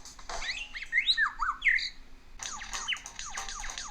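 An Australian lyrebird, a mimic species, calls nearby in a loud, busy run of squawks, sweeping whistles and rapid chirps, pausing briefly before a second burst of clipped, stuttering notes.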